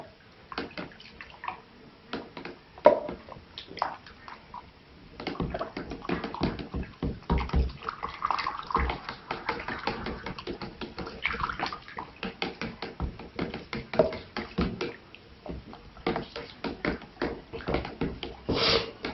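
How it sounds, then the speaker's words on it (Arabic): Tylose powder is sprinkled into about three litres of water while it is stirred briskly, making a steady run of sloshing, splashing water sounds with repeated knocks from the stirring, close by and continuous. "هنبدأ نرش التايلوز مع التقليب"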